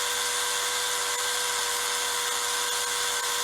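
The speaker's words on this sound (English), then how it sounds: "Got the end of the motor shaft in my Dremel, which is about battery dead" A battery-powered Dremel with a low battery spins the motor shaft of a 1960 Marx HO train, a steady, high, even whine that holds unchanged throughout.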